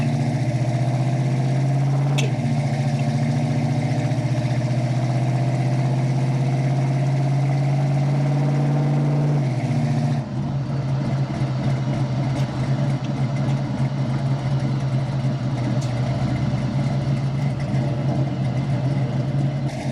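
A 1972 Dodge Challenger with a 440 V8 and a 727 automatic idles steadily, its loud, rumbling drone heard from inside the car, with the engine note dropping and settling about halfway through; no one speaks.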